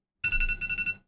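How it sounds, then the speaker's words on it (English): Alarm in the video game The Crimson Diamond, a short electronic tone pulsing in a quick rhythm for about a second, clear and alone after brief silence. "that was the alarm telling us to stop."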